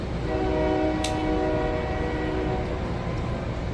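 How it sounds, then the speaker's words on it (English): A train passes along a railroad track a couple of blocks away, its horn sounding as sustained harmonic tones over a continuous rumbling roar, heard steadily in the background. "We're a couple of blocks away from the railroad track, so you might hear that in the background"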